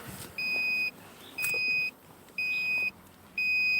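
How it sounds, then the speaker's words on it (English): A Lexus driver's door open warning chime beeps four times in an even, repeating rhythm, each tone lasting about half a second, clear above faint background hum. "And it's bleeping at me."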